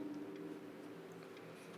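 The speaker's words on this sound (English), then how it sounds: "nope, don't like the ticking of the clock." Faint, steady ticking of a clock within a soft fantasy ambience track of low sustained tones, the ticks light and evenly spaced over a quiet background.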